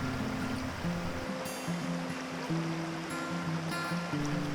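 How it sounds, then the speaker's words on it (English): Stream water flowing over rocks, a steady close rushing wash heard throughout, with soft sustained musical tones running underneath. "listening to the sound of the water flowing over the rocks."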